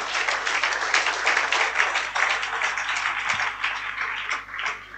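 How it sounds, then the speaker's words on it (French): A church congregation applauding the Lord, broad sustained clapping from many hands filling the room at steady loudness for several seconds, with no clear voices above it. "On acclame très fort le Seigneur."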